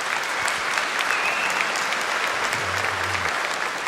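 A lecture audience applauds steadily, a dense and even wash of clapping at moderate level with no voices over it.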